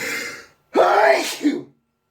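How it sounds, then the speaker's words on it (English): A sharp inhale followed by a loud, close sneeze, with a short trailing sound as it ends. "I'm going to sneeze."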